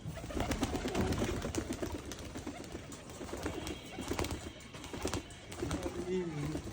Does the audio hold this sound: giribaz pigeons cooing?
yes